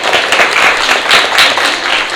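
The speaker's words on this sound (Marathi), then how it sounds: "कुडोज टू हिम अँड जोरदार टाळ्या" Loud, dense applause from an audience at a Marathi movie meet and greet, sustained clapping with no break and faint voices mixed in.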